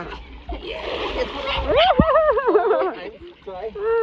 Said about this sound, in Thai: ก็คือเล่นน้ำแบบนี้แล้วก็ใส่หน้ากากไม่อยากให้น้ำลายกระเด็นใส่น้องซาร่า